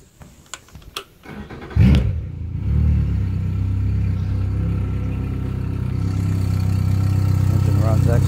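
A 2014 Yamaha 70 hp four-stroke outboard on a pontoon boat, cold-started: a few sharp clicks, then the engine cranks and catches, settling into a steady, close, rumbling idle.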